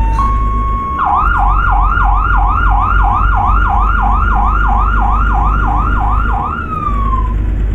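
A wailing emergency vehicle siren in a driving game set on the road from Alexandria to Bucharest, rising and falling in a fast regular cycle, very loud over a low engine hum and lasting several seconds.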